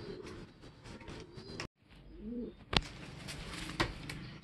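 Pigeon-like bird cooing softly at close range, a hungry young bird that has not eaten for two days, with brief rustling and handling knocks around the low, throaty coos.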